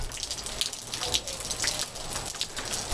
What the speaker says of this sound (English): It's just water from icicles.